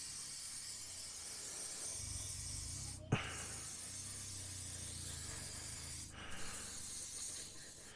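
An airbrush hisses as it sprays paint on a model PBY-5 Catalina aircraft, a soft continuous close hiss with a brief break around the middle and another dip later, no speech.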